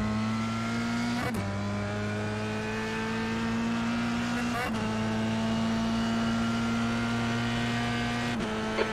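Formula 3 race car engine in iRacing at Circuit Park Zandvoort, a loud steady drone holding one pitch with brief dips at each gear shift, continuous and close throughout with no talk.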